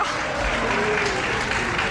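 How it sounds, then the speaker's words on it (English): A studio audience on a 1984 Match Game–Hollywood Squares Hour game show applauds in a steady, continuous wash of clapping with some voices mixed in. "Your mother's applauding"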